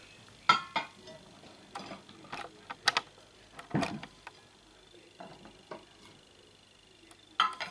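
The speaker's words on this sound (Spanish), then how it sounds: "Ya vamos a colocar la mesa, mirad, ¿veis? Va el plato hondo, o sea, el llano y el hondo." Plates, deep and flat dishes with floral pattern, set down on a table, a scattered series of close clinks and knocks with quieter rustling between them.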